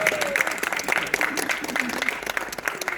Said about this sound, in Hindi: इतनी कंजूसी से ताली बजा रहे हो लोग।